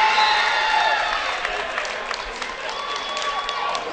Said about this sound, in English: a lot of sarcastic roars and clapping as Nick Griffin hits a free throw at the other end